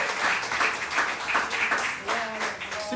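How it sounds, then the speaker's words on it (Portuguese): A church congregation claps along during a worship service, with a dense, steady patter of hands and voices mixed in throughout. "aplauda o Senhor com o seu melhor"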